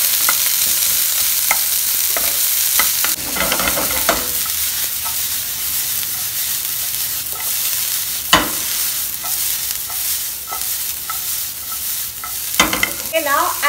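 Chopped ginger and onions frying in a pan while being stirred, a continuous close sizzle broken by repeated scraping and clinking strokes of a spatula, no talking.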